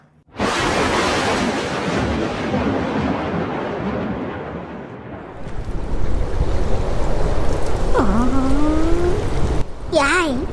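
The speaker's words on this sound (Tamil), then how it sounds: "என்னடி மழை பயங்கரமா பெய்யுது" A heavy downpour in a cartoon roars as a loud, dense wash that starts abruptly and swells later on, with a whooshing effect sweep near the end.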